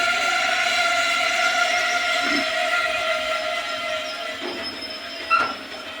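Train pulling into platform number 2 at Radhanpur station in India; loud sustained wheel squeal with tonal screeching over a rumbling rolling train, close by, with a sharp clank near the end.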